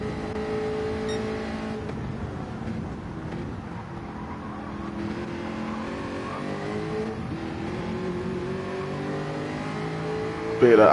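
GT race cars in the ERL GT sim racing game at Interlagos, a Jaguar among them, accelerate in a drag race toward the next corner; engines rev and whine steadily and loudly throughout with rising pitch, commentary talking over them.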